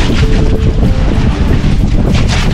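Strong wind roars and buffets against the microphone in a loud, continuous rush at sea, with a strong current churning faintly beneath it.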